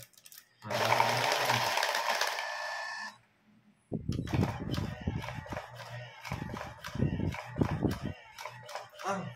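An automatic card shuffling machine whirs loudly for about two seconds while it shuffles a deck at a casual card game. The whir stops abruptly and is followed by busy clattering and voices talking over the table.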